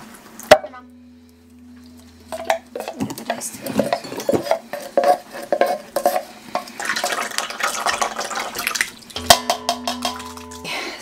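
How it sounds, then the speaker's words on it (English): A spoon scraping and clinking through a pot of canned sauce, diced tomatoes and ground meat, with irregular stirring scrapes and knocks against the pot, close and fairly loud, with a few brief tonal clanks. "We're just going to mix this all together, and then we'll taste it to adjust for seasonings"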